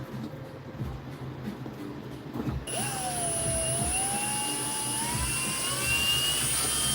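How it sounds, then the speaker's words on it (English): A drill bores into a PLA 3D-printed part, starting with a rough mechanical rattle, then settling into a loud, continuous whining motor tone that drifts upward in pitch. "I make a drill"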